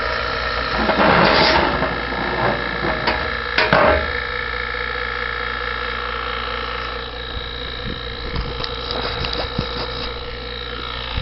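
A 120-volt vacuum pump running continuously at close range, a steady mechanical hum with a few clunks and rattles of handling on top.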